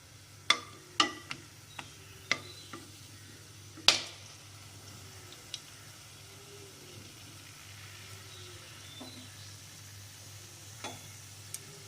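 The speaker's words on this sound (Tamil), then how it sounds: "அதுக்கப்புறமா பட்டை, லவங்கம், பிரிஞ்சி இலை இதெல்லாம் போட்டு தாளிச்சிக்கலாம்" Cinnamon, cloves and bay leaf tempering in hot ghee for brinji rice: a few sharp clicks as the spices drop into the pan, then a soft, steady sizzle that runs quietly throughout.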